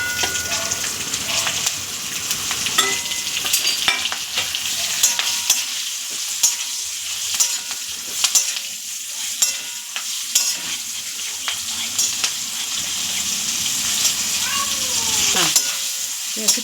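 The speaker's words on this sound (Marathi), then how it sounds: "हे असे परतून घेऊया" Green chillies sizzle and sauté in hot mustard oil with asafoetida in a home kitchen, a steady loud frying hiss with occasional stirring clinks and scrapes throughout.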